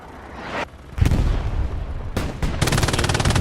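Automatic machine gun fire in the World War II shooter Hell Let Loose, loud, close bursts with rapid repeated shots and a booming report, a short gap, then a sustained stream of fast fire at the end.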